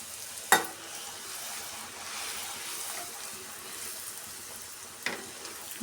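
Poori deep-fries in oil with a soft, steady, faint hiss, broken by a couple of brief clatters near the start and end.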